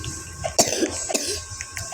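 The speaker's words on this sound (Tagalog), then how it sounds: "Inuubo ako guys." A person coughs a couple of times in quick, sharp bursts, close to the mic, over a low steady background hum during Tagalog game play of Pinning Tower 2.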